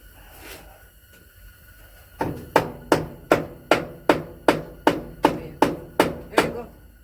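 Hammer blows during a home DIY table saw build, about a dozen sharp evenly spaced strikes in a steady rhythm, close and loud after a quieter stretch with faint voices.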